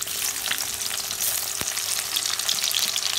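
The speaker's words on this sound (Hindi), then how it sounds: "अब इसमें ये प्याज डाल देंगे," Onions sizzle and fry steadily in hot oil in a kadai with cinnamon, garam masala, cloves and black pepper, a close, continuous crackle with one sharp pop midway.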